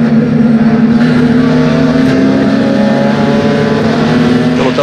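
Pack of touring race cars on the start straight at Londrina raceway in a 2019 Sprint Race season opener, engines roaring loud and continuous with steady droning harmonics, a dense close field of cars passing together.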